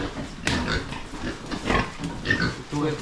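Pig oinking and grunting close by on a rural farm, mixed with people talking in Filipino throughout.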